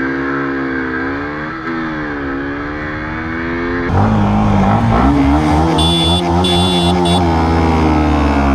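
A KTM RC125 BS4 motorcycle accelerates hard in a highway drag race, its engine whine climbing steadily through the gears with a louder shift partway through. The sound is close and loud throughout, with no speech.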